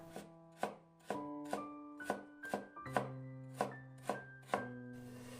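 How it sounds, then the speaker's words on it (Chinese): A knife slices a washed carrot into strips on a board: about eleven crisp, sharp chops, close and distinct, spaced at a steady but slightly uneven pace, with no talking. "1根洗干净的胡萝卜先切成片。 再改刀切成丝。"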